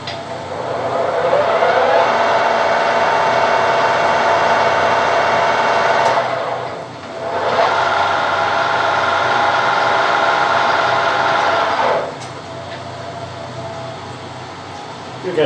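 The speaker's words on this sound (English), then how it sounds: "Cutting a thread on a lathe is pretty easy." A metal lathe cutting a thread on a workpiece, part of making a king pin puller for an Austin 10 Tilly, runs as a loud, steady machining whine with two brief dips in the middle, heard close and alone.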